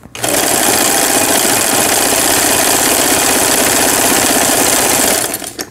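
A Janome Line17 sewing machine, just repaired with a replacement gearbox, runs a zigzag stitch, giving a loud, close, continuous mechanical whir with rapid rhythmic needle chatter for about five seconds before stopping.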